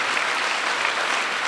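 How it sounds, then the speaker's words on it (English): A governors' meeting audience gives the Vice President a round of applause, a brief, full and even burst of clapping heard alone. "If we give him one more great round of applause"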